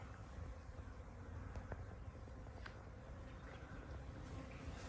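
A honeybee swarm buzzes softly and continuously, a faint steady insect drone with a few closer passing bees standing out briefly.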